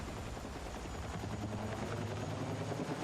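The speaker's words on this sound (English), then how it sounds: "Just trying to figure out NATO heli today" A NATO helicopter in a military video game gives a continuous low, throbbing rotor drone at steady loudness throughout.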